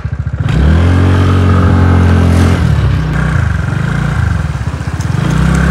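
A scooter engine hums loud and close while riding toward the parking point near Double Drive Falls in Meghalaya, with a steady drone that shifts pitch as it slows and accelerates.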